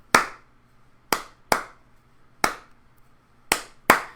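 Six sharp hand claps spaced unevenly in a tapped rhythm pattern during a music dictation exercise, close and crisp with silence between them.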